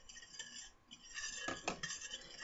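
A utensil stirs melted chocolate mixed with coffee and vanilla in a bowl, giving soft scraping and light clinks against the side, faint and close with a few louder strokes near the end, no talking.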